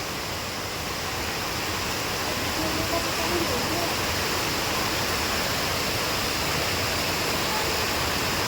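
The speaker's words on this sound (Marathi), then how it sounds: "बघू शकता तुम्ही मोठा पाऊस आलाय मोठा" Steady, dense hiss of heavy rain pouring down in Lonand, Maharashtra, loud and continuous from start to finish, with no voices over it.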